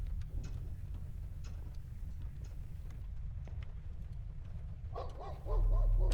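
Dogs bark in a dark horror video game demo, several sharp calls scattered through a steady low rumble of game ambience, with a louder burst of barking near the end.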